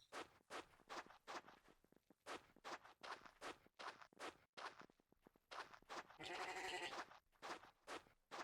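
Sheep in the block-building game Luanti with Mineclonia bleat in one drawn-out burst near the end, following a steady run of crunchy footsteps across the ground.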